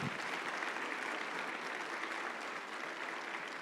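Church congregation applauding during a Sunday sermon, a steady, dense wash of many hands clapping that holds at an even level throughout, fairly distant and with no voices on top.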